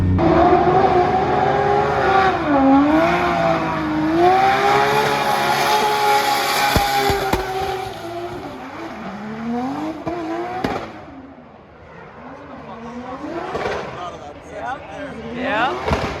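A BMW E36 drift car laps at Formula Drift Long Beach, its engine loud and close with rising and falling revs and tire squeal, briefly dipping before climbing again.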